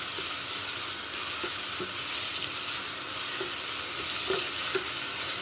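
Ginger garlic paste fries in a pan for jeera rice, a steady dense hiss of sizzling oil that runs throughout, broken by occasional light scrapes of a stirring spoon, close and even.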